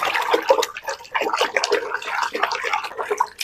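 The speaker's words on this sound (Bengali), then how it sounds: "চুনটাকে আমি পানিতে ভালো করে ঘুলে নিয়েছি" Slaked lime being stirred into half a bucket of water, close splashing and swishing in short uneven bursts with small gaps between strokes.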